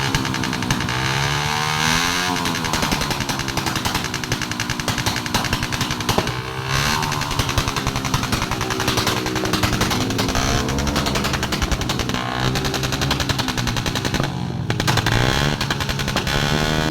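Several motorcycle engines rev loudly and repeatedly at a local motor show, rising and falling in pitch with sharp throttle bursts, continuous throughout.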